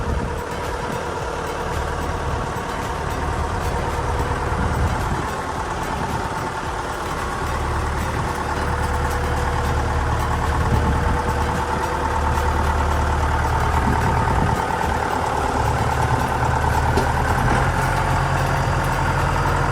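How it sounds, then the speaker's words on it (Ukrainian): A John Deere 6310 100 hp tractor diesel engine idles steadily close by, a deep continuous rumble with a slight rhythmic throb, no talking. "хороший, приємний звук двигуна"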